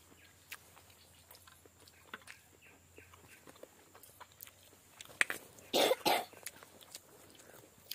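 A child coughs twice in a quick, loud burst at home during a meal, after several seconds of quiet room noise with faint clinks and small movements.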